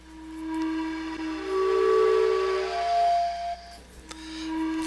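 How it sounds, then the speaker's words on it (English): Steam train whistle in the video game Myst: one sustained tonal blast with shifting pitch, about four seconds long, loud and clear over a faint background hum, then a brief restart of the tone at the end. "train whistle."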